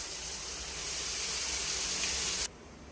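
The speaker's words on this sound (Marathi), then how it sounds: "आता आपण ही भाजी स्वच्छ धुवून कट करून या फोडणीत घालूया।" Spring onion greens drop into hot tempering, giving a loud, steady sizzling hiss with steam that cuts off abruptly near the end.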